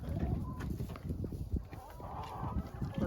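Chickens on a farm on a mild winter day, soft clucking and low farmyard murmurs running steadily throughout, fairly quiet and close, with no talk.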